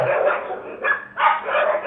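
Dogs attacking an elderly woman on her way back from a gurdwara bark loudly and close by, a few sharp barks in quick succession.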